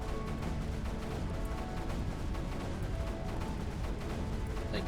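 Cannons fire in a strategy video game, a dense, continuous barrage of booming blasts and crashes filling the whole stretch at steady loudness with no talking.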